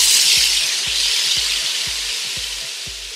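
Vegetables sizzling loudly in about a tablespoon of hot peanut oil with garlic in a wok for a vegan stir fry, a steady bright hiss with regular soft thuds of stirring.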